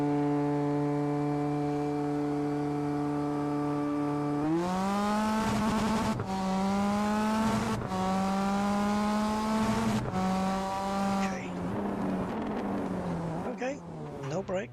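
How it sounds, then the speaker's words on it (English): A race car engine in a sim-racing video game idles with a steady drone, then revs up and pulls through repeated gear changes, rising and falling in pitch. The engine stays loud and up close, and a person talks at times over it. "Let's see what the engine sounds like out here."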